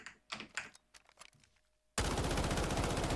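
A customized gun fires in the video game Delta Force, a sudden loud, dense burst of sustained automatic fire that cuts in after a stretch of quiet mouse or keyboard clicks.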